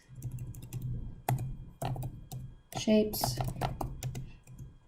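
Rapid clicking keystrokes on a computer keyboard, typed in irregular bursts up close while a person talks steadily over them.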